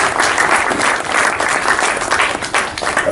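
Audience at an official strategy presentation giving sustained, dense applause, loud and steady throughout with slight swells and dips.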